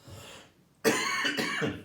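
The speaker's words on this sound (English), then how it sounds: "I'm about to cough, but it's not a coronavirus cough" A single close cough bursts out, then a second cough follows quickly, both loud and dry, with no talking around them.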